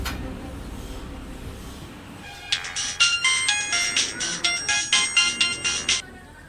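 A phone ringtone rings in a repeating pulsed pattern, about eight short rings over several seconds, following a quiet stretch of faint background noise.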